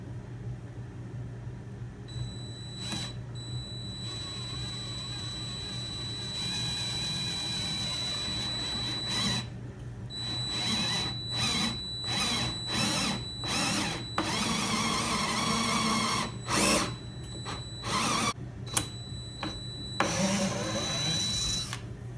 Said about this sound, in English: now we're going to be drilling a hole for the bolt, and we're using a drill bit that's 3/8 of an inch